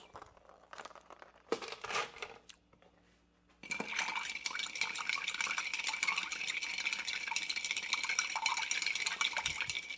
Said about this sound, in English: Let's add a little bit of ice.